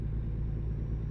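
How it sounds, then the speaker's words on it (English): A truck with a loud exhaust rumbles steadily nearby, a low droning engine roar that holds constant throughout with no talk over it. "This truck has a loud exhaust"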